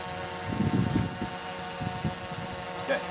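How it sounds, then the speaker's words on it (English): A drone flying during a falconry session in the Dubai desert, a steady faint motor hum with wind buffeting the microphone and a few soft low thumps. "She knows the sound of the drone."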